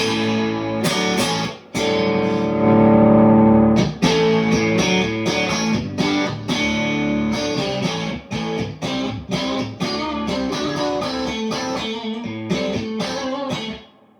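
An electric guitar played through an overdriven tube amp with the master volume down, in a small room: crunchy, gritty chords and single notes ringing out in a rhythmic sequence, loud and close.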